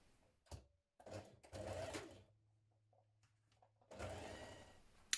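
Sewing machine stitching the shoulder seams of facing pieces for a New Look 6808 spring top, with two short bursts of stitching, a sustained low motor hum in between, and a longer run of stitching at the end.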